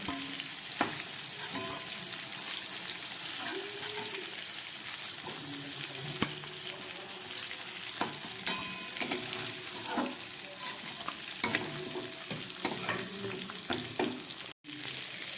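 Rita and tangra fish fry in hot oil in a pan, a steady close sizzle with occasional stirring clinks and scrapes running throughout without any talk.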